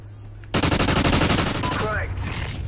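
Rapid automatic fire from an MTAR rifle in a video game rattles out in a dense, loud burst, shots evenly spaced and close, with a voice speaking briefly as the firing trails off.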